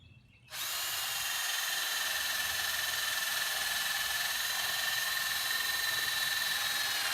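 A power drill bores holes through wooden stage boards, starting abruptly and then holding a steady, close, high whine throughout with no talk.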